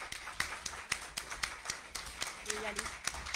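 A municipal council meeting audience applauds young council members and their parents with a moderate, fairly quiet patter of hand claps that keeps a steady pace throughout, with voices talking over it.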